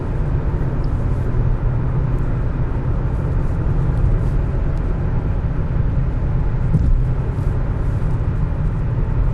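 A 2011 Genesis sedan with a 4.6 L V8 cruising steadily in traffic, its engine and road noise forming a constant low drone from inside the cabin, with no talk.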